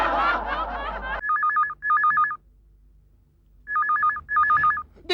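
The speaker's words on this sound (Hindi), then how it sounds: "ऐसा लग रहा है कहीं दूर टेलीफोन की घंटी बज रही है।" A telephone bell rings in two pairs of trilling, electronic-sounding bursts with a pause between, heard after a burst of laughter at the start.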